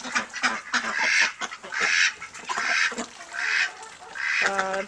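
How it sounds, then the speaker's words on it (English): White meat ducks in a backyard flock quack in loud, harsh bursts, several calls overlapping in a rough rhythm close by, ending with a clearer, more drawn-out honking call. "The white ducks are the meat ducks."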